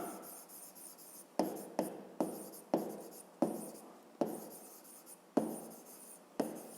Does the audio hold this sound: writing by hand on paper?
yes